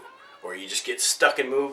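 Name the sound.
roommate's cat meowing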